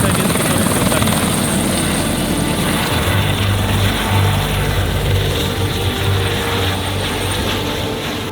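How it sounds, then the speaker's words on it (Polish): Sightseeing helicopter lifting off over Niagara Falls, a loud steady rotor and turbine roar filling the whole stretch with a low pulsing thump, fading slightly at the end. "Także skończyliśmy lot helikopterem."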